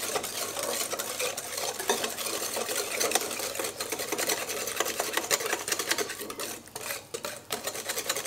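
Lemon vodka cake batter is mixed with a steady, fast whirring beat of an electric mixer in a bowl, close and continuous, dipping slightly near the end.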